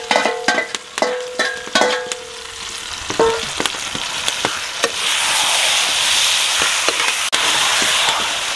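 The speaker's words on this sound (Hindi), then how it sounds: "हम इसे अच्छी तरह से भूनेंगे कीमे को इसी के अंदर।" Minced meat keema with peas frying in a pan, opening with a run of sharp metallic spoon clanks and stirs, then a loud, steady hiss of sizzling that fills the rest.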